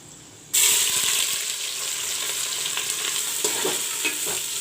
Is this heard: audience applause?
no